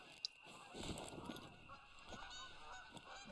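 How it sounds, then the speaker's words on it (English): Geese honk faintly in the distance in the video game TheHunter: Call of the Wild, scattered calls over a soft background hum, no one speaking. "I think I just heard geese."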